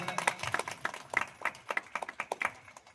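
A church audience at Calvary Preeti Ministries in Bidar claps in quick, roughly rhythmic bursts, moderately loud but slightly distant, with no talking over it.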